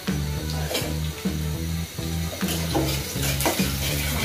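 Dried red chilies stirred while frying in a pan, a continuous loud sizzle with a repeating scraping rhythm from the spoon and a faint pulsing hum underneath.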